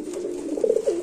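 Pigeons at a market stall coo steadily, producing a low, soft, throaty murmur with a few slightly louder swells near the end, heard alone and fairly close.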